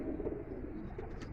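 An Imam Din pigeon gives a soft, low, continuous coo at close range, with faint higher chirps near the end, in a pigeon-keeping setting in Lahore.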